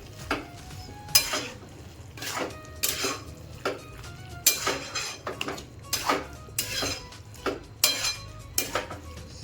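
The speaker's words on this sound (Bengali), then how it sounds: "এবার সব একটু নাড়াচাড়া করে" Chicken kheema masala stirred in a pan with a metal spoon, a run of repeated clinks and scrapes in an uneven rhythm, close and clear, with a faint sizzle beneath and no talking.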